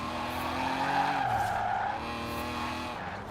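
Car drifting through a turn, tires squealing in a long sustained screech over a revving engine, close and loud, with the squeal easing off near the end.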